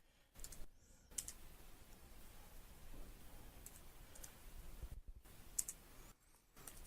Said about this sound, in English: Now I'll type in the grades for each student,